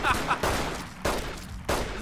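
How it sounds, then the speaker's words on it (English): Gunfire in a Fallout New Vegas shootout: four sharp bursts of shots spaced roughly half a second apart, loud and close, with no talking. "This is a fun shootout."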